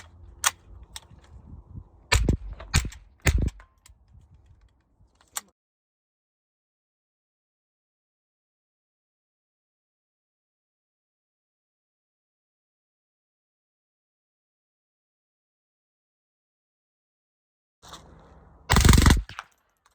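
A .22 LR rifle fitted with a forced reset trigger fires in semi-auto: a few loud, sharp cracks early on, then a long silence, then a tight burst of shots near the end.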